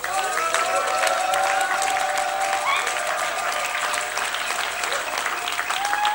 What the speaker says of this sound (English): So I think we should give her another round of applause.